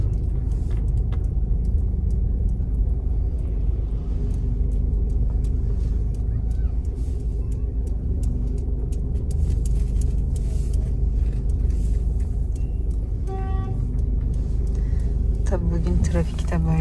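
Busy town-centre street traffic in İslahiye, Gaziantep, on a crowded holiday eve after the earthquake, with a steady low rumble of cars and other vehicles passing close by. People talk over the traffic throughout.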